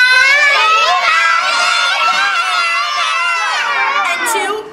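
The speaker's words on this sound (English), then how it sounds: "when I point to you, you're going to scream at the top of your lungs" A group of young children screaming and cheering together at a fifth birthday party, a loud, sustained, high-pitched chorus of shouting voices close by that lasts several seconds before trailing off.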